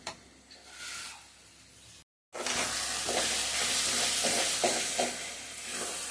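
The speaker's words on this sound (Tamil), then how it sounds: "அதனால நல்லா வதக்கணும்." Onions and spices sauté in a pan for an egg curry gravy, a steady close sizzle with stirring scrapes and clinks, broken by a brief silent gap before the frying resumes louder.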